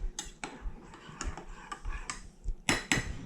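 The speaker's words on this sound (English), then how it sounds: "Give each of them a stir, just to make sure everything's nice and activated." A utensil stirs small cups of plastic-forming mixture, making quick clicking and tapping knocks against the cup walls, close and fairly quiet, with a louder pair of clinks near the end.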